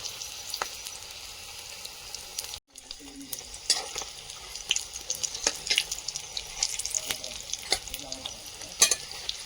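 Aloo chop (potato chops) frying in a pan: a steady broadband sizzle that runs almost the whole time, with one short break and scattered crackles and pops. No one talks.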